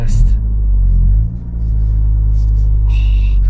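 A 2023 MK4.5 facelift Ford Focus ST Track Pack idles and rumbles up close with a deep, steady engine drone, dipping briefly partway through, while a person speaks over it.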